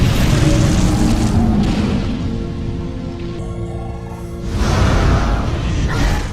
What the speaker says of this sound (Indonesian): terjadilah ledakan besar yang berhasil melumpuhkan musuh